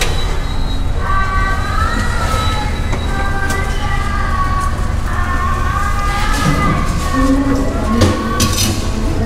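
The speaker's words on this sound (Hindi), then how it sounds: "ये थी अपनी ट्रेन" Passenger train on an Indonesian railway, heard from inside as a steady rumble with metallic squeals and whines, loud and continuous throughout.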